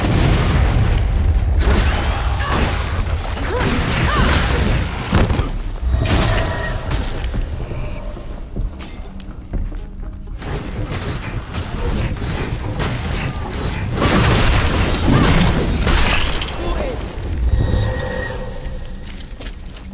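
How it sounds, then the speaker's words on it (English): Heavy explosive booms and crashing rubble from a cave-in set off by exploding barrels in an old mine, a loud, dense, continuous rumble lasting throughout with bursts of impact and debris. "Those barrels caused a cave-in."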